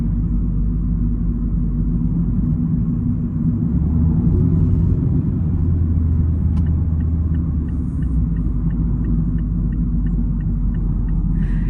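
Steady, heavy wind buffeting and low road rumble from a 2024 Mazda Miata GT convertible driven top down fill the air throughout, with no talking.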